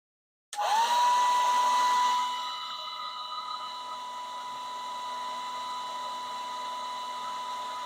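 Hair dryer switched on at high heat and high air: a sudden loud start, then a steady high-pitched whine and rushing blow that eases slightly after two seconds and holds evenly.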